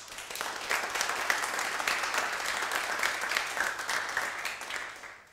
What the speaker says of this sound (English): Jonathan Wiltshire, that deserves a big round of applause